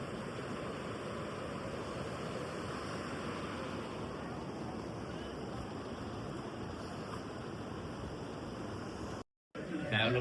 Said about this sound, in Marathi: बद्रीनाथ मंदिर आणि ही नदी आहे,